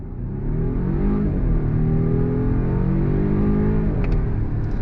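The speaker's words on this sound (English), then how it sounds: "when you do go on throttle, you do hear the sound of that 4-cylinder turbo" A 2023 Volvo XC90 Recharge's 4-cylinder turbo engine rises under throttle, a steady mid-pitched drone that builds and holds with road and cabin noise, heard from inside the SUV with no talking.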